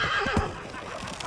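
A horse struck by an arrow in a fantasy battle scene whinnies sharply, a short distressed neigh with faint hoof clatter amid battle ambience.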